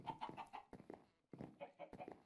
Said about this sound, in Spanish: Vamos a matar otro pollito.